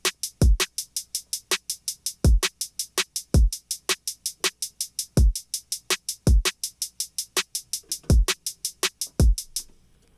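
FL Studio drum beat from a remake, with a punchy kick and snare under a steady, fast closed hi-hat pattern repeating evenly, fairly quiet and with no voices.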